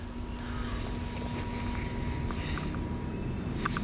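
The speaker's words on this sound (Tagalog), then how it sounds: "May exhaust fan." An exhaust fan in a Drifit Master Republic clothing shop runs with a steady, even whir and a low, constant hum, with a few faint clicks near the end.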